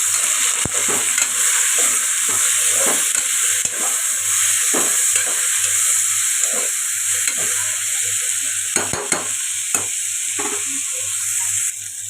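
A spoon scrapes and stirs a tomato and dal mixture seasoned with salt in a hot pan, with a continuous sizzle and hiss under repeated scraping strokes, close and fairly loud with no voices.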